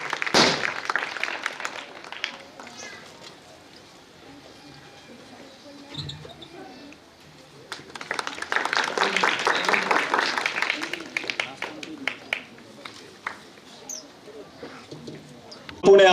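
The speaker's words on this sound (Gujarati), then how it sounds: "આપણે સૌ તાળીઓના ગડગડાટથી વધાવી લઈશું." An audience at a ceremony honouring soldiers breaks into clapping, a thick, sustained patter of many hands rising in the middle of the stretch, with talk and background murmur around it.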